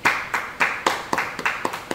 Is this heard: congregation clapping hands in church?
yes